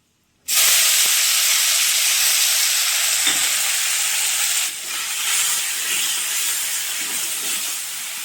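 A spice paste hits hot oil with jackfruit in a pan and sets off a loud, steady sizzle that holds for several seconds and then eases a little, close by with no talking.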